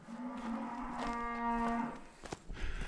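A cow moos in a long, clear, drawn-out low call on a farm at spring field-work time, fairly close, followed by faint scuffling and rustling outdoors with no speech over it.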